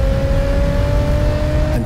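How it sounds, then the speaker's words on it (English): High-performance SVR SUV engine with a variable valve active exhaust, giving a loud, steady close-up drone with a sustained tonal hum, no talking. "the variable valve active exhaust system enhancing performance capability"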